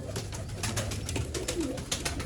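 Pigeons kept in a collection for sale in Bangalore coo in soft, low throaty rolls, several birds overlapping close by against a busy background hum.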